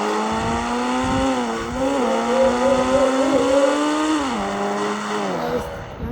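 A motorbike fitted with four silencers is ridden at speed, its loud engine note rising and dipping as it revs, with the steady roar continuing throughout.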